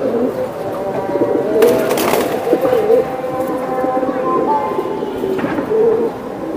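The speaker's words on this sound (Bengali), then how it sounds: "এটা লাল গলা কবুতর। লাল গলা আজান দিচ্ছে তো" Red-necked giribaj pigeons coo in repeated low calls close at hand, with a couple of sharp bangs or claps and some voices in the background.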